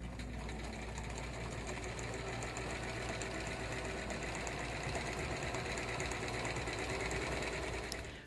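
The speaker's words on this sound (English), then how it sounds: "We're now coming to the end of the sewing, and when I get to the pin, I'll stop." A sewing machine runs steadily through a seam, a continuous close mechanical whir with a fast, even stitching rhythm and no pauses across the whole stretch.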